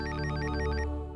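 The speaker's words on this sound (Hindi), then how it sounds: "अश्विन सर का फोन" A telephone rings with a steady electronic warble, a continuous ringing tone that holds for about a second before fading slightly.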